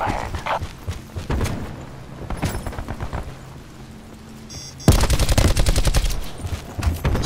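Gunfire in a Call of Duty: Black Ops 4 multiplayer team deathmatch: scattered loud shots and short bursts early on, then a dense, sustained volley of rapid automatic fire close by.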